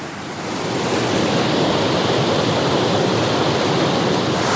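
A waterfall on Vancouver Island pours steadily in a loud, broadband rush, swelling during the first second and then holding constant and close, with no voices.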